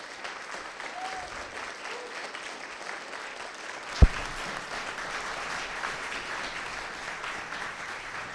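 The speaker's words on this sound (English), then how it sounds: "I hope on the air you can hear all the applause that's happening in the room" Room applause after a Moab city candidates' debate, a steady wash of many hands clapping throughout, with one sharp thump midway.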